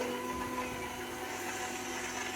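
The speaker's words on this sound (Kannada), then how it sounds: "ಸೊ ನೆಕ್ಸ್ಟ್ ಅದನ್ನು ಚೆನ್ನಾಗಿ ಗ್ರೈಂಡ್ ಮಾಡ್ಕೊಳ್ಳೋಣ" Kitchen mixer grinder whirring steadily as it grinds dry fruits for juice, a continuous dense motor drone with a faint whine, fairly quiet and unbroken, with no talk.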